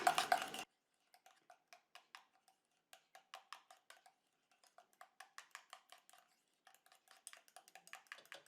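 A spoon stirs anti-aging breast cream in a small bowl, making a quiet series of light, rhythmic clicks and scrapes after a short louder start. No voices are heard.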